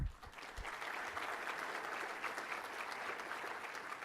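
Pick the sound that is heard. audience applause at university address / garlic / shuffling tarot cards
audience applause at university address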